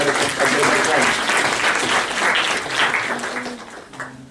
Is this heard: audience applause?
yes